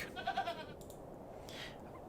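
A goat bleats briefly in the adventure game The Excavation of Hob's Barrow, a short quavering call at moderate volume over a quiet ambient background, followed by faint soft sounds.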